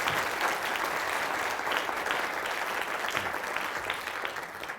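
An audience applauds steadily, a dense wash of many hands clapping throughout, with no talking over it.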